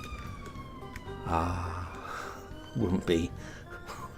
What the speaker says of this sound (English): Probably an ambulance.